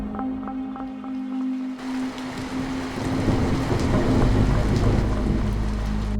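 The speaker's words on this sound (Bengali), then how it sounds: "বজ্রপাতের সাথে প্রচন্ড হাওয়া বইতে শুরু করলো এবং হালকা বৃষ্টিও শুরু হলো।" A thunderstorm with strong wind and light rain starts quiet, then swells into a loud, dense roar of rushing wind and rain with low rumbling underneath.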